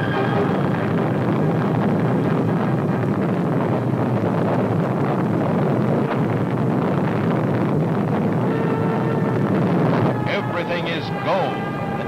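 Atlas rocket launching the Mercury Friendship 7 capsule: a loud, sustained broadband roar and rumble, rough and buffeting like wind, that eases near the end as other sounds appear.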